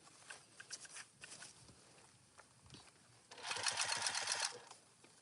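A sewing machine stitches a tote bag, with a few short bursts early on and then a louder, continuous run of rapid stitching lasting about a second, close by, with no talking.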